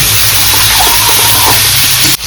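Chopped onions hit hot oil in a pan of frying duck for an Assamese duck fry, giving a loud, steady sizzling hiss that cuts off abruptly near the end.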